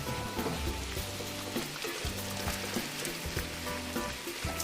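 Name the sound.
ground beef sizzling in a pan with peppers and onions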